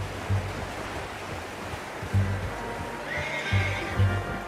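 A horse in Red Dead Redemption 2 whinnies and snorts over a steady outdoor ambience, with soft hoof steps and low thumps recurring every couple of seconds, with no speech.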